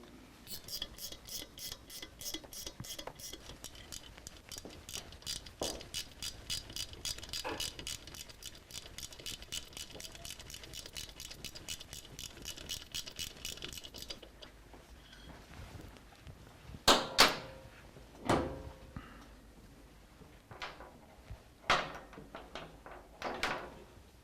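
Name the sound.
torque wrench tightening motorcycle engine rocker support bolts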